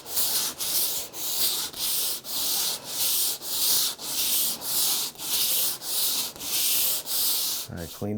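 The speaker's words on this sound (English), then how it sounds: "I'll sand this with 80 grit, then I'll jump it up to 120," Sanding wood filler on a hardwood bench seat by hand with 80 grit paper, loud steady rasping strokes in an even back-and-forth rhythm, close up with no talk.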